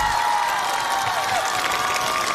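Studio audience applause at a Chinese music variety show, a steady broadband wash of clapping and crowd noise holding level throughout, with a faint tone running underneath.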